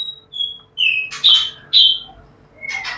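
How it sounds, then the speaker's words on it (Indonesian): Clear, bright calls of an overexcited white-rumped shama: a series of whistled notes and sharp chirps, fairly close and loud, with short pauses between phrases and no talking. "tentang murai batu over emosi saya ini"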